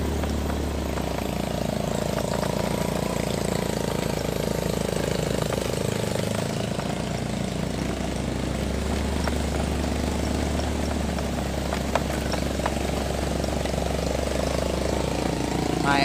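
A motorcycle ridden while carrying a load of wood gives a steady loud engine drone that runs unbroken, with a low rumble and a rattling mechanical hum throughout.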